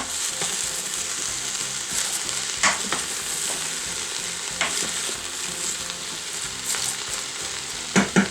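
Zero-point soup with cabbage being stirred in a pot: a steady close sizzle and bubbling, with a few short scraping knocks of the spoon against the pot, no voices.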